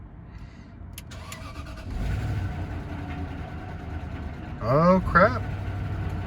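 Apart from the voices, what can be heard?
Range Rover engine cranking and starting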